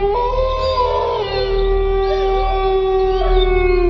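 Dogs howl together in long, rising and falling tones, several voices overlapping and sustained throughout.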